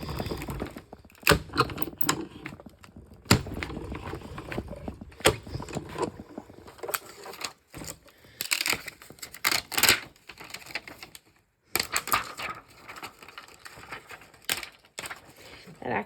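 A die-cutting machine cranks acetate through with nested shape dies, giving uneven mechanical clattering and grinding in bursts with brief pauses, close and moderately loud, with some faint handling noise.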